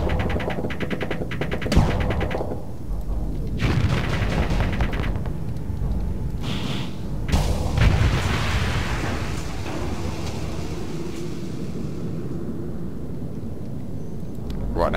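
Missile fire and explosions in the space combat game Starsector: deep rumbling booms and blasts over a continuous dense roar, with sharp thumps and swelling bursts throughout.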